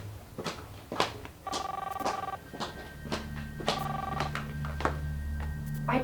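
A telephone rings in repeated electronic bursts, two clear ring cycles with pauses between, loud and close over a low background hum, in a spy action movie.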